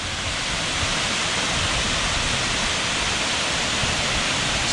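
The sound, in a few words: large waterfall at Stony Brook State Park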